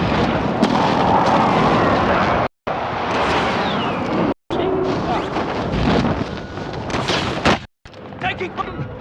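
Friendly precision airstrike explosions in a video game: heavy, booming blasts and rumbling fire fill the mix loudly, broken by brief silent cuts, with voices talking over parts of it.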